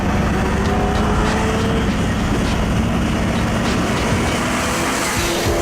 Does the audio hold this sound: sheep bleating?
no